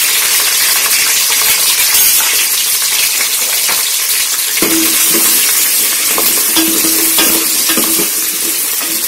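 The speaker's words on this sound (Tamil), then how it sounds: "வெங்காயம், வெங்காயம் நல்லா வதங்கிருச்சு." Onions sautéing in a pan for chicken biryani with green chilies and mint, a loud continuous sizzle with occasional scrape and clink of a spoon stirring, close and steady throughout.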